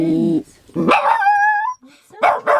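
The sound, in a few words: puppy barking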